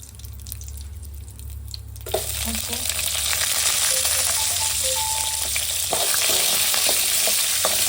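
Green chilies fry in a pan with okra chutney being made. A quiet background suddenly gives way to a loud, steady, crackling sizzle, with occasional utensil clinks near the end.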